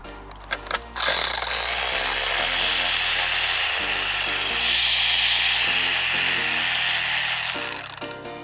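A power tool whines steadily as it spins loose the SRS bolts on a wrecked 2017 Tesla P100DL, running continuously for several seconds after a short burst of clatter, close and loud.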